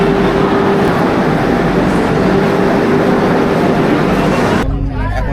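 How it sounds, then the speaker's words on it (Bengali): A Howrah–New Jalpaiguri Vande Bharat train pulling into Malda Town station, heard as a loud, steady rumble with a thin tone running through it, cutting off near the end to quieter sound with a voice talking. "এত তাড়াতাড়ি মালদা টাউন স্টেশনে ট্রেন ঢুকিয়ে দিয়েছে"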